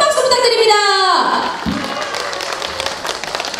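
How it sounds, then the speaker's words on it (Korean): Indoor audience clapping and cheering for a singer as she is introduced on stage, a broad sustained wash of applause that swells after a descending musical sting, with a voice speaking at the start. "큰 박수 부탁드립니다"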